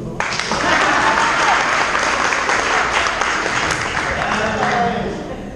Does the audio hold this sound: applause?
yes